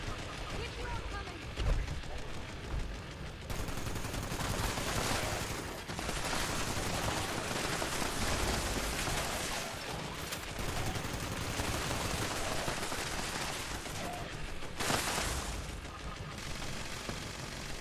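Dense, continuous bursts of energy-weapon fire from a plasma pistol in Fallout 76 rattle and crackle over a long stretch, with a voice talking over parts of it.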